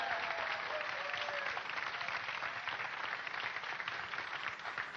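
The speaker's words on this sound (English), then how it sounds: "Give them a round of applause," A live audience claps steadily for about five seconds at a stage show, a dense, continuous patter of many hands that stays at an even level throughout.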